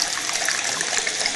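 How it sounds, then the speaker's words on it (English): Liquid yeast poured through a funnel into Russian imperial stout wort, a steady close splashing gush running continuously with no voices. "there's the yeast that I'm going to pitch in there"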